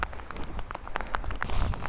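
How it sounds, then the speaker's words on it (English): Rain patters onto a hiker's raincoat on the Annapurna Base Camp trek in Nepal, with scattered close taps over a steady soft hiss of rainfall, no talking. "You might have listened to the raindrop falling onto my raincoat."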